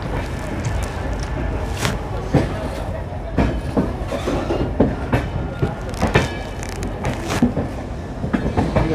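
Passenger train running on rails between Ayodhya Junction and Varanasi Junction, heard from inside a carriage as a loud continuous rumble with repeated clickety-clack wheel beats over rail joints and a busy background din.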